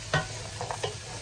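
Carrots tumbling into a hot pan for a chop suey with chicken liver and quail eggs, a few soft thuds and stirs over a faint sizzle, close and brief.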